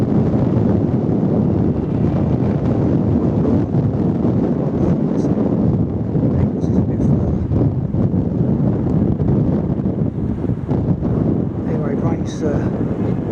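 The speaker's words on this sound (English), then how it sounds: "Pretty breezy now, as you may be able to hear, unfortunately." Steady breeze buffets the microphone on a walk across open heathland on the Royston circular route near the Abbey, a loud continuous rushing roar with gusty low rumble filling the whole stretch.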